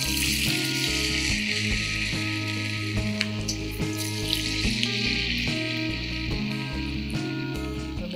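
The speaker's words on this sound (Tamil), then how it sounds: "மிதமான தீயில் பொரிச்சிக்கலாம்." Potatoes fry in hot oil over a medium flame, a steady, loud sizzle and crackle running without a break, with a faint tonal hum beneath and no talk.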